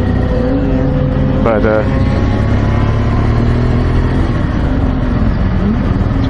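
A 2016 BMW R 1200 GS Adventure motorcycle pulls away, its engine note rising steadily under constant wind rush at close range, while a rider talks over it.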